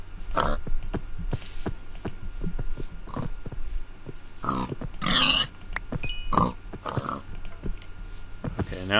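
Several Minecraft pig grunts, short and close, repeat at uneven intervals, with one louder burst partway through over soft game ambience and clicks.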